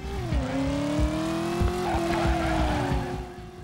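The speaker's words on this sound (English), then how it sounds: "The car sounds authentic, and so do the general sound of the traffic." A car engine drones loudly and steadily, its pitch dipping and then holding as it runs, with faint tire squeal and traffic noise mixed in, in the video game Driver.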